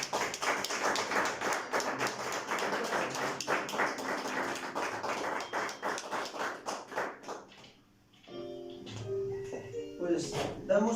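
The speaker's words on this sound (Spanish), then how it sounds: "Démosle un fuerte aplauso al Señor" A church congregation claps together in praise, loud rhythmic hand claps filling the room for several seconds before tapering off, followed by a voice speaking and faint background sounds.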